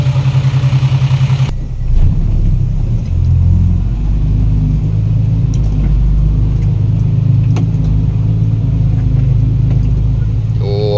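An excavator loading soil on a work site gives a deep, steady diesel rumble close by, swelling slightly under load after a brief sharper burst at the start.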